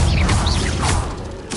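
Incendio fire spell cast in Hogwarts Legacy, a loud, sustained whooshing burst of flame with swirling magical texture that fades near the end.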